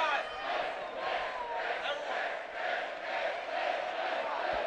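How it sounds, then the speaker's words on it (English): A home crowd cheers at a varsity boys' basketball game between Lyons Township and Hinsdale Central, a broad sustained roar with rising and falling swells, while a commentator talks over it. "Hinsdale crowd cheering."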